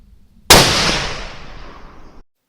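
A single loud, close .308 rifle shot fired with Barnes VOR-TX ammunition at a 100-yard range cracks sharply after a short silence, then its echo rolls away and fades over about two seconds.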